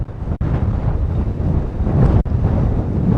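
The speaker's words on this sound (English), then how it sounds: "Because it is super windy." Strong wind buffets a microphone outdoors in Montrose, a loud, continuous low roar with gusty swells and two brief dropouts, no voices.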